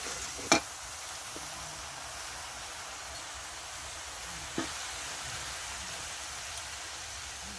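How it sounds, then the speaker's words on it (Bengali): Spices for a fish curry with chili paste and turmeric fry in a pan, a soft steady sizzle with a couple of brief clinks of a utensil, and no voices. "এবার মশলাটাকে কষিয়ে নেব।"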